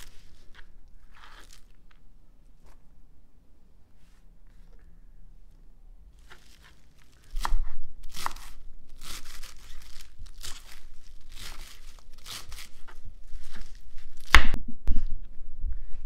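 A knife chops a bunch of fresh cilantro on a cutting board while vegetables are prepared for pakoras, giving quiet, scattered crisp cuts that turn into a steadier run of louder chopping strokes in the second half.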